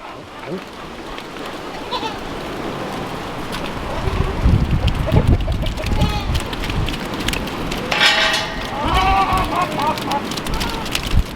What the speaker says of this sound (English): see if I can convince the goats to go out and graze instead of feeding them grain today